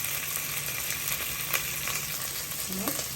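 Garlic cloves and curry leaves fry in hot oil on a low-flame pan with a steady, soft sizzle broken by scattered sharp crackles and pops.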